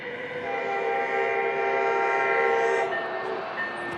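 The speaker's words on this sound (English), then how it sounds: "Coaster blowing its horn right below us" A San Diego Coaster commuter train sounds a long sustained horn blast from close below, loud and steady for about three seconds before cutting off.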